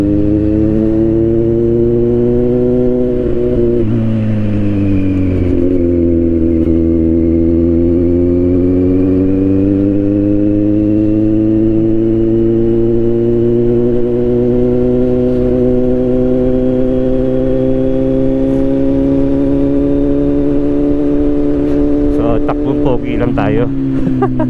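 Motorcycle engine hums steadily throughout while riding, a continuous drone that shifts in pitch as speed changes, with people talking over it.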